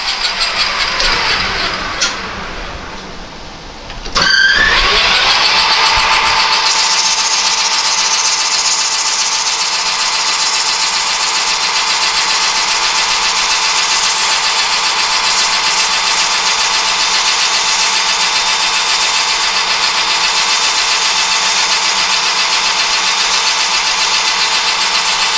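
A power tool polishes a Toro mower anti-scalping wheel part, spinning up after a brief pause into a loud, steady high-pitched whine that runs on without a break.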